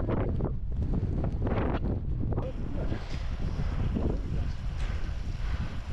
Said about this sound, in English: So wind assisted. The lovely wind.